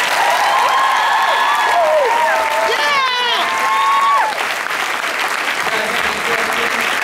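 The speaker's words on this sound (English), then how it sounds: "You guys, how about a big round of applause for Terry Pratchett?" Comic Con panel audience in New York applauding for author Terry Pratchett, a dense, loud, steady wash of clapping filling the hall, with cheers and whoops rising over it.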